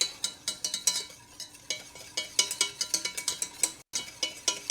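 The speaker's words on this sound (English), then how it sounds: "And I'm just going to stir it to help it cool." Caramel sauce stirred in a pot as it cools: a steady rhythmic series of spoon scrapes and soft clicks against the pan, close and fairly quiet, with a brief pause near the end.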